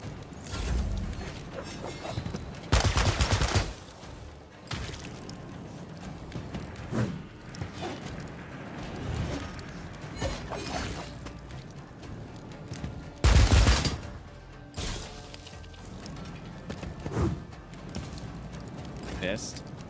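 Gunfire in Warhammer 40K: Dark Heresy, with two loud bursts of shots standing out above a busy game soundscape and a few smaller sharp reports between them.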